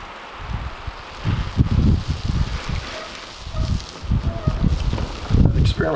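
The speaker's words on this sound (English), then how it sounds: "The wind came in and was blowing this direction" Wind gusts blowing outdoors during a wildfire defensible-space demonstration beside a house, a rough low rumble of microphone buffeting that rises and falls in uneven waves with some rustling.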